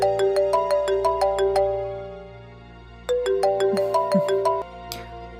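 A phone ringtone plays a repeating melodic pattern, pauses briefly, then rings again loud and near, with a faint rustle near the end.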